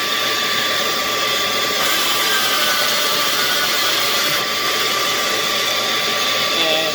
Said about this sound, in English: turn the vacuum on